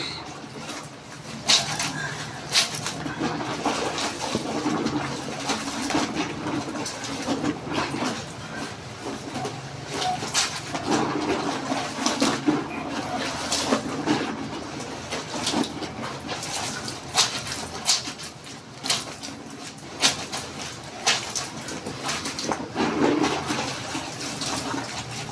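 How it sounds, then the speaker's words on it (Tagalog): A school uniform being hand-washed, with continuous splashing, sloshing water and rubbing fabric going on steadily and fairly loud throughout, punctuated by brief sharper knocks. "maglaba muna tayo ng uniforme natin"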